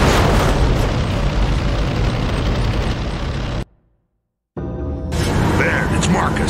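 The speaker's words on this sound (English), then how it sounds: "Next time I'll stay with the exploding gas station." A gas station explodes in Gears of War with a loud, sustained roar and rumble filling the scene, cutting to sudden silence midway before game sounds resume.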